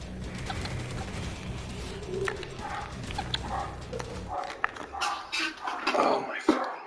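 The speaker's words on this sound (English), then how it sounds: "What are these dogs barking at?" Dogs bark in the distance, a few scattered barks mixed with cooing pigeons over steady background noise, with occasional faint voice.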